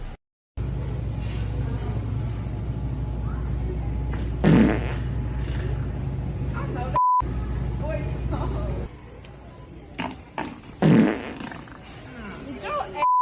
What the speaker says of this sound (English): So you gonna sit here and act like you didn't fart.